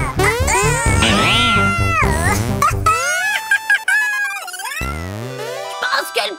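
Kittens meowing loudly and close by, in a rapid run of overlapping high, wavering cries followed by a few longer drawn-out mews after short breaks.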